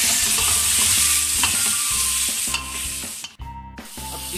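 Bottle gourd, a kilo of it, stirred into mutton frying in a pot for lauki gosht, with loud steady sizzling and repeated scraping stir strokes, briefly dropping near the end before resuming.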